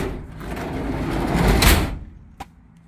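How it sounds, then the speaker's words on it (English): The sliding door of a 1978 bus rolls along its track with a gritty scrape that builds over about two seconds, then stops, and a single short thud or latch click follows a moment later, close and fairly loud. "The sliding door. It's a little gritty."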